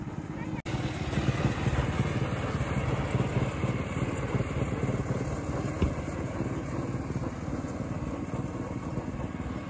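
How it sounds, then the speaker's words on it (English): A go-kart engine drones steadily at a fruit and flower park in Kobe, Japan. It holds a constant buzzing hum throughout with a brief dip near the start, heard from a moderate distance. "This go-kart goes more than 1 kilometer."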